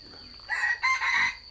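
A rooster crows twice in quick succession, close and fairly loud, with a faint steady hum from a farmyard coop holding hens and chicks behind it.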